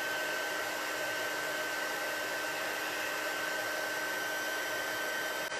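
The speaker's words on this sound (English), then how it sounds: "once your heat gun is heated" Heat gun blowing steadily for embossing on a watercolor stamping craft project, a constant close whooshing hum with a faint high whine, unbroken until it stops.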